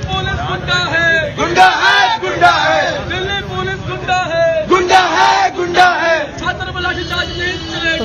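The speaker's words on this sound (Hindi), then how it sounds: "दिल्ली पुलिस के मुर्दाबाद नारे यहां पर लगाए जा रहे हैं" Shirtless Jamia University students protesting against Delhi Police make a loud, close crowd din of shouted slogans that rise in repeated rhythmic bursts, with overlapping voices and babble throughout.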